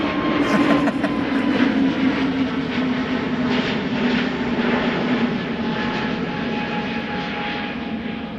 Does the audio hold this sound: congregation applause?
no